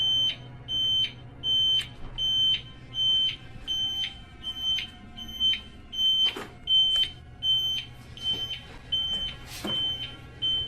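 An alarm in an empty hospital room beeps in a steady repeating series of short high-pitched tones, close and clear, with a few sharp knocks and clicks breaking in partway through.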